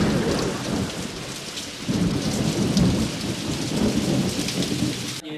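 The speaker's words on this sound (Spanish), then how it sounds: "¡Oh, tormenta!" A thunderstorm sound effect from a TV comedy sketch plays as a loud, continuous rush of rain with rumbling thunder surging partway through, alone without voices, cutting off abruptly at the end.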